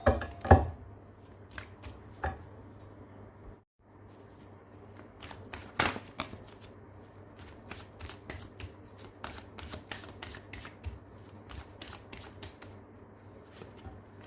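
Tarot cards riffled and handled close up in a quiet room, with a steady run of soft papery flicks and taps and one sharper slap early on as a card drops.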